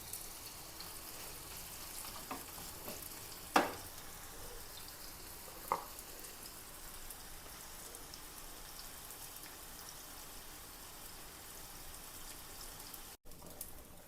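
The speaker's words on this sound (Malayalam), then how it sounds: "അപ്പോൾ നമ്മുടെ പൂമീൻ കഷ്ണങ്ങൾ വറുത്ത് കഴിഞ്ഞിട്ടോ." Four marinated pearl spot fish pieces fry on a low flame in a pan, giving a quiet, steady hiss with an occasional louder spatter.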